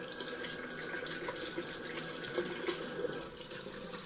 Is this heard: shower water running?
yes